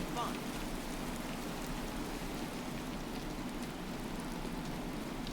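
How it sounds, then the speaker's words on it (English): Rain falling in the Disney Dreamlight Valley video game, a steady, soft hiss of drops throughout at low level, with a brief voice near the start. "This rain won't stop my fun."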